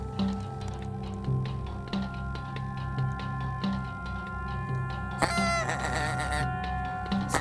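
Greylag geese flying out to feed during a hunt in eastern Germany call with repeated honks in a steady rhythm at moderate distance, over a steady low background, with a sharp brief disturbance near the end.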